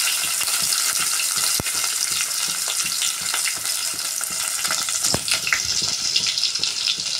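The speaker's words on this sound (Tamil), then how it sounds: "அடுத்து நறுக்கி வச்ச வெங்காயத்தை சேர்க்குறோம்." Loud, continuous sizzling of chopped onions frying in a hot pan, with crackling pops and occasional scraping of stirring throughout.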